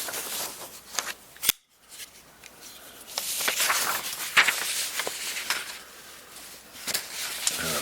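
A CRKT Hi Jinx Z flipper knife slices through paper in a series of crisp, brief rustling cuts and scrapes, close and fairly quiet, with a short silent pause early on.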